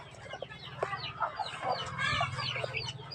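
Hens and young chicks clucking and cheeping close by, a busy flurry of short calls and peeps over low background noise, with no talk.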